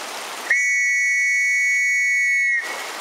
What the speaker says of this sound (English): this is actually the Metropolitan Police whistle used by police in London, and I guess it got adopted in military use